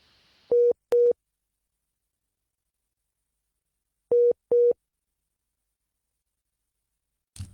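Telephone line tones after a radio show caller's line drops: two pairs of short, identical beeps separated by silence, followed by a brief low thump at the end.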